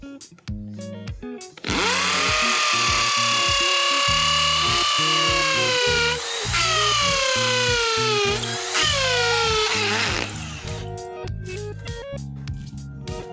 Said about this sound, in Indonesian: Ini cor-coran semen menggunakan mata bor bawaan dari paket pembelian dengan ukuran 10 mm.